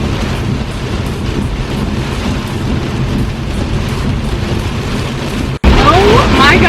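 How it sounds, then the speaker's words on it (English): Heavy rain pounding a car driving on the interstate, a loud, roaring wash of spray and wind noise that fills the whole stretch, briefly cutting out near the end before resuming. "This is by far the worst rain that I've ever driven in."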